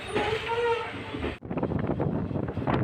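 A passenger train rolls on just past Tumakuru railway station on the Bengaluru–Challakere line, a continuous close rumble of wheels and carriage with a drawn-out tonal whine early on, a brief dip, then steady clattering motion.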